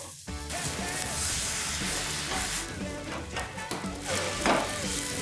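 Vegetables sizzle and fry loudly in a hot pan after a splash of sake, a dense steady crackle with bursts of hiss and stirring, no talking.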